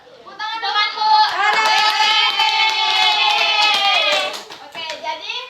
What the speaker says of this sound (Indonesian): Tepuk tangan dong, Bu.